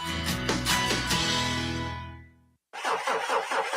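A car engine cranks and sputters loudly while struggling to start, a radio-ad sound effect that cuts off abruptly, then a brief silence before a voice begins talking.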